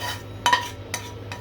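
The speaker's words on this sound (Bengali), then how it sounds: "একদম ভাজা ভাজা করে তেল বের করে আমি কচুর সাথে এখন দিয়ে দিচ্ছি" Fried masala of coconut, onion, garlic, green chili and bay leaf is tipped into taro greens and stirred, giving a few quiet, brief scraping clatters of a spoon against the pan over a low steady hum.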